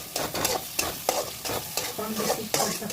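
Masala with garam masala and salt frying and being stirred for chicken curry, a loud close sizzle broken by quick rhythmic scrapes of a spoon against the pan.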